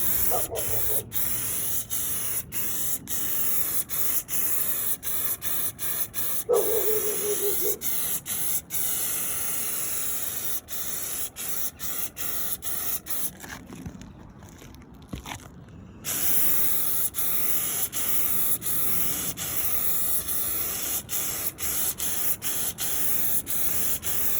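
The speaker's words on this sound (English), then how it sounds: "We're just going to give it a quick couple sprays, get the product moving, and you're ready to coat." Henry StopLeak spray applied onto roof penetrations comes in short, close hissing bursts, with a brief pause between passes and a longer silent gap midway.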